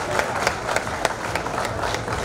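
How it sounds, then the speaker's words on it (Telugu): A gathering of guests at a birthday celebration breaks into steady, scattered clapping, moderately loud and close, with sharp individual claps standing out over a continuous patter and a faint murmur of the crowd. "ఒకసారి మురళి గారికి చప్పట్ల ద్వారా ఆశీర్వచనాలు అందించవలసిందిగా కోరుతున్నాను"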